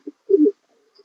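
Pigeons coo once at close range: a short soft note followed by a fuller, rolling two-part coo, loud and clear against silence.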